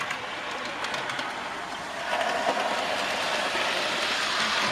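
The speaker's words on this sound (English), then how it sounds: "Hamster Terrier returning a brake van" A Hamster Terrier locomotive on a loft model railway, returning a brake van, runs with a steady light rattle and clickety-clack of small wheels on track that grows slightly louder as it passes.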